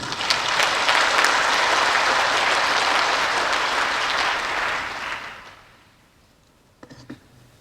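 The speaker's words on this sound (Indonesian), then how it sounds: "Kita beri aplaus dulu." An audience at an open senate meeting of ITSK Dr. Soepraoen in Malang claps together in sustained applause that fades out after about five seconds, followed by a couple of faint knocks.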